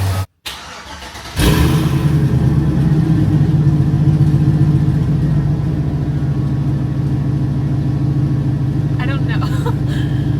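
A Camaro with a cateye front, long tube headers and the muffler off starts with a sharp crank, then settles into a loud, deep, lumpy idle that rumbles on steadily, with a brief spoken remark over it.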